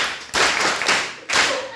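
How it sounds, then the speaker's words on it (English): Two short bursts of clapping from a school audience during a talk to secondary students, each loud, close and broadband, separated by a brief pause. "You give a round of applause."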